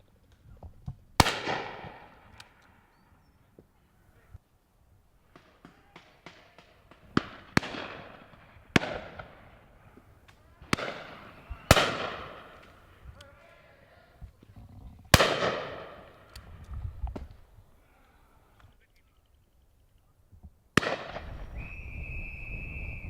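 Shotgun shots fired at driven pheasants on a shoot, several sharp loud blasts spaced irregularly with echoing decays, some fainter distant shots between them, and a steady rushing noise at the end.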